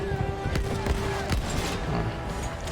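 Gunfire in a video game played with a standard controller, a few sharp shots popping over a steady background tone and game sounds.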